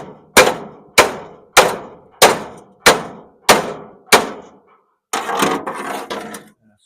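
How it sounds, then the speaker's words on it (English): Seven evenly spaced, loud metallic blows of a hammer striking parts inside an electric clothes dryer being scrapped, each ringing briefly, followed by a rough clattering rattle of loosened pieces. "I just take a hammer."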